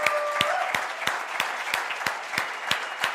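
A church congregation at a Sunday service breaks into applause, dense steady clapping from many hands with regular louder claps standing out, sustained and fairly close for the whole stretch.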